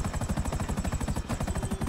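A video game helicopter, its rotor thudding in a fast, steady chop, moderately loud and close, with no talk over it.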